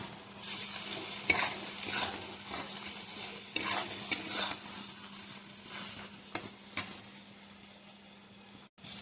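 Pointed gourd (potol) being stirred as it fries in a pan, a busy close sizzle broken by repeated scraping strokes and light clinks of the spatula, with no voices.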